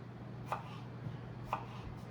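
A kitchen knife cuts through strawberry halves on a cutting board: two quiet, distinct taps about a second apart over faint room hiss.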